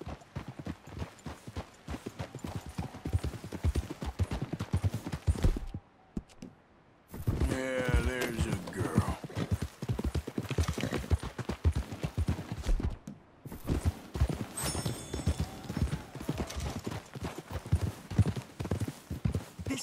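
Horses walking with steady, close clip-clopping hooves throughout, a brief pause midway, and a horse whinnying once in the middle.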